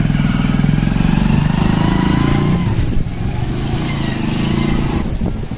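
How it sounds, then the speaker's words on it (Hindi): A motorcycle engine runs loud and close on a ride through a village, a steady throbbing drone that dips slightly partway through and then holds even. "उस हिस्से तक पहुँचने के लिए अपनी इस बाइक का यूज़ करूँगा"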